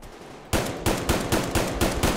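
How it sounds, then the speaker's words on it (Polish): Rapid bursts of gunfire in the video game Survarium Beta 0.40 during a fort battle, about seven sharp, evenly spaced shots in quick succession, loud and close with no talk over them. "widzicie ile strzałów poszło w powietrze?"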